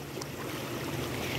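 Rough sea slapping around a boat, a steady dense wash of water noise with wind buffeting the microphone throughout a short stretch.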